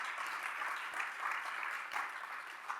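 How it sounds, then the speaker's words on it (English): An audience at a speaker series event claps in steady, dense applause throughout, heard from within the crowd at an even level. "You can give him a round of applause"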